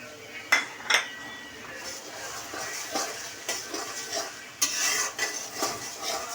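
Garlic frying in oil for an olive pickle, a steady soft sizzle under repeated metal spoon clinks and scrapes against the pan, close and fairly loud.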